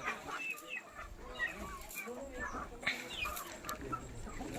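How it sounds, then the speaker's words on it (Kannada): Hens cluck and chatter softly in short, scattered bursts as they eat scattered grain, with faint voices in the background. "ಇಲ್ಲಿ ಕೋಳಿಗಳು ನೋಡ್ರಿ ಹೆಂಗೆ ಮೀತಾವು"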